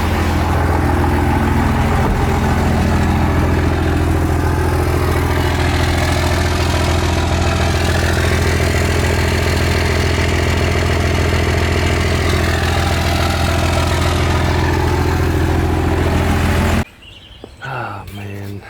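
A truck engine idles steadily and fairly loud for most of the clip, a continuous low rumble that cuts off abruptly near the end, leaving quieter background sounds.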